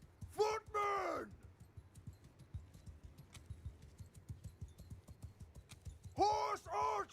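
Horse hooves clip-clop in a steady rapid rhythm in the Mount & Blade Bannerlord video game, quiet and continuous, between loud shouted bursts of speech at the start and end.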